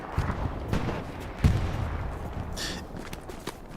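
Machine gun fire in the WWII shooter Hell Let Loose during a competitive match on the Sainte-Marie map, with steady rattling bursts and one louder crack amid continuous battle noise.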